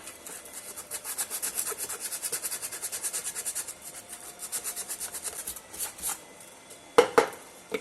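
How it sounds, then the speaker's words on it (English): Wooden jewelry box part sanded by hand, a rapid rhythmic back-and-forth rubbing that slows and thins out toward the end, followed by a couple of sharp knocks. "We're going to sand this out a little bit."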